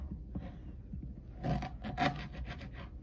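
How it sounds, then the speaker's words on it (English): Knife cutting ginger root into sections on a board, a few close rasping, rubbing strokes with soft thuds, the loudest bursts in the middle and toward the end. "I just cut it into sections."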